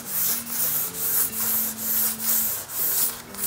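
Rhythmic hand sanding to break the edge of a Oettinger TCR Street Kit body part, a dry rasping stroke repeated back and forth about once every half second, close and steady.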